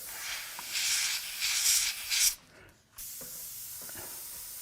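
An airbrush sprays violet paint with compressed air during fantasy art painting, a close, breathy hiss in several swelling pulses, then a brief different hiss and a quieter steady air flow.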